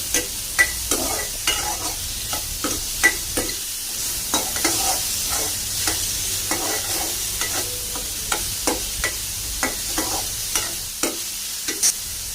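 Green mango pieces with salt and turmeric fry in a pan over a low gas flame, giving a steady close sizzle broken by frequent scraping stirs throughout, with no talking.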